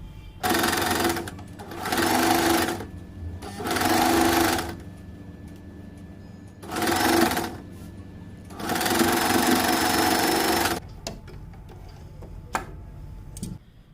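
Sewing machine stitching fabric strips onto a pleated newborn baby cap, running in five separate close bursts of steady whirring with short quiet pauses between them, no talking.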